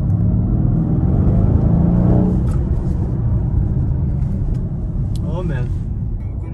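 A 2021 Mercedes GLC 63 S AMG Coupe engine and exhaust, heard from inside the car as a loud, continuous deep rumble with a rising rev toward the end.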